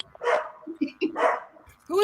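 A dog barks at an after-party for a fine art show, two loud close barks about a second apart among people talking and cheering, then a high whine at the end.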